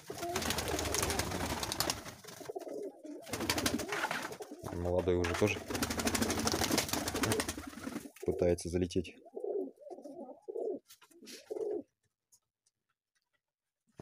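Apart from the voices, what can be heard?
pigeons cooing in a dovecote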